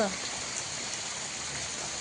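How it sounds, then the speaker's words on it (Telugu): Heavy rain pours down in Rajasthan, a steady broadband hiss of drops on surfaces that holds at an even level for the whole stretch, close and continuous. "చూడండి ఎంతలా పడిందో వర్షం"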